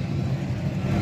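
Engine of a Camaro at a cars and coffee gathering, a loud, close, steady low rumble that fills the whole second.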